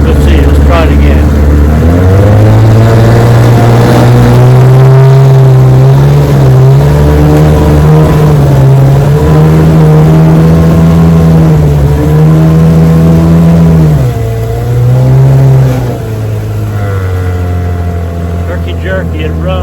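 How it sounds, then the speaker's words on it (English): Johnson outboard motor running rough with a fuel or spark fault, a loud close engine drone that surges and sags unevenly, dipping and nearly stalling before picking back up, with someone talking over it. "It runs and stops, runs and slows down."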